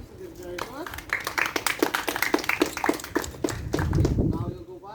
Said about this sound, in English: Alright class, clap for yourself, it is very good.